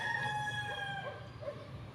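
A rooster crows once, a drawn-out cock-a-doodle-doo heard faintly at a distance over quiet outdoor background.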